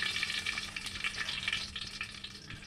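Whole spices including bay leaves sizzle in hot oil in a pressure cooker: a soft, steady crackle and hiss with small pops, fairly quiet and close, with no voices.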